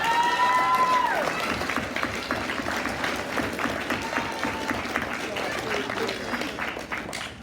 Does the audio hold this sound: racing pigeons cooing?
no